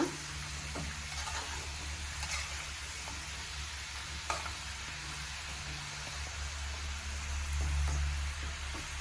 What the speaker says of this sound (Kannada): ಲೋ ಫ್ಲೇಮಲ್ಲಿ ಇಟ್ಕೊಂಡು ಚೆನ್ನಾಗಿ ಫ್ರೈ ಮಾಡಿ